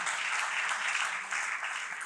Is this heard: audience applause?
yes